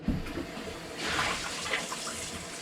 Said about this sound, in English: We'll wash my bowl out.